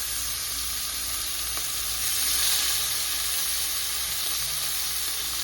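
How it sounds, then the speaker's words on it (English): Chunks of beef sear over high heat in a hot pot for a braised beef mechado, giving a steady, close, loud sizzle with brief stirring noises and no talk. "We got a high heat here, and we're gonna start searing our beef"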